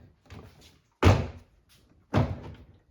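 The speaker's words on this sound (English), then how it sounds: "just go around and push on it to clip all the clips in" Clicks and thumps as a Toyota Sienna front door panel is pushed and clipped onto the door frame: two firm, close thunks about a second apart, with faint rustling before them.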